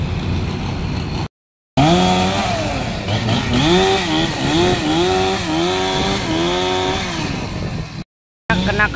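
A chainsaw roars close by, its engine pitch rising and falling as it bites through the wood of a large, decades-old tree in repeated revving cuts.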